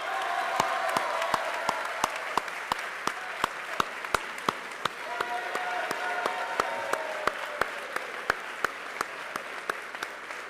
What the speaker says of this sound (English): Let's give a round of applause to Faisal Abdallah.